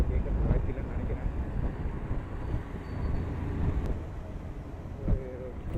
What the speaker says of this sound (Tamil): இப்போ காற்று வேறு ஓவராக அடிக்குது